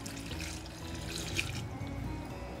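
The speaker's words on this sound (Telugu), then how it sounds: "ఒక 3/4 గ్లాస్ వాటర్ వేస్తానండి దీంట్లో." Water poured from a glass into a dish of Peshawari dumpukht, a soft faint trickling and splashing that runs steadily for a couple of seconds with no talking.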